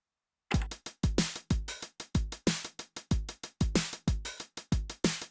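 A steady 909 drum machine groove with kicks, ticking hi-hats and accented snare hits on the backbeat at steps 5 and 13, starting after a short silence and looping evenly.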